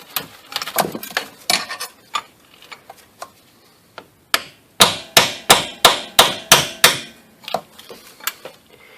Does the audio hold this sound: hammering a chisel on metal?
yes